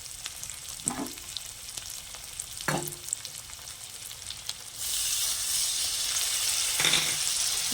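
Spices fry in a pan, giving a soft sizzle broken by a few utensil scrapes. Ground mustard paste is then added for a Bengali rui fish rezala, and the hissing swells into a louder, steady sizzle.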